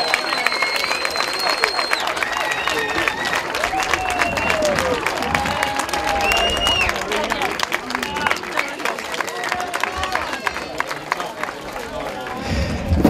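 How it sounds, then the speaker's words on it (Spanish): Outdoor crowd applause and cheering at a running race awards ceremony, clapping mixed with chatter, shouts and whistles from spectators, steady and fairly loud with background babble. "Fuerte aplauso para ella."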